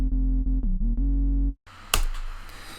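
Jump up style synth bass, built in Ableton: a loud buzzy tone plays in short rhythmic stabs with pitch bends, then cuts to a noisy burst and fading hiss.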